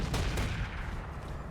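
A mech in the RogueTech video game fires slug ammunition, a heavy burst of gunfire with a couple of sharp blasts over a sustained rumbling roar, loud and close.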